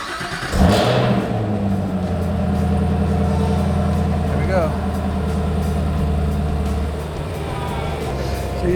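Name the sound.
car engine starting and revving after winter storage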